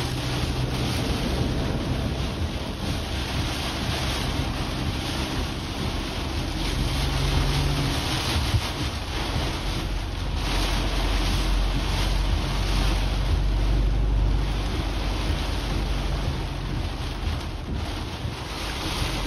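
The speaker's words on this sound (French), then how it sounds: "la pluie s'intensifie et nous avons même des rafales de vent" Heavy rain and gusting wind in a violent summer thunderstorm near Ottawa, a dense steady roar with strong low wind buffeting on the microphone, swelling and easing over the whole stretch.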